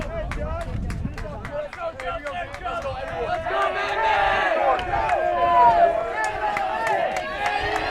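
A baseball crowd at a high school quarterfinal between Darien and Staples claps in a steady rhythm and yells and chants, loud and close, with voices talking throughout.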